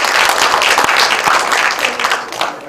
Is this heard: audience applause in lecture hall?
yes